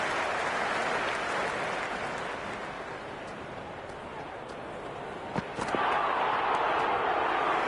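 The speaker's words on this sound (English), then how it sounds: "There's a buzz, a real buzz coming from the stands." Cricket crowd in the stands during a Super Kings match, a steady broad roar of cheering and applause that swells slightly near the end, with a couple of sharp claps or thuds briefly standing out.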